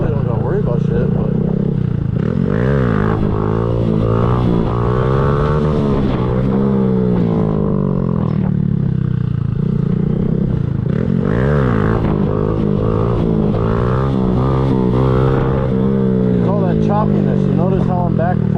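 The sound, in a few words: vehicle engine under choppy throttle while riding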